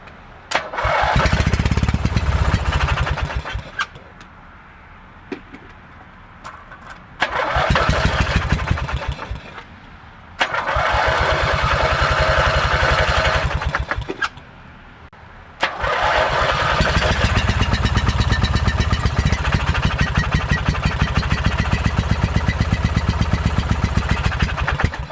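An 18 or 19 horsepower opposed twin engine is cranked repeatedly, with loud bursts of starting and running broken by short silences, then catches and runs steadily to the end.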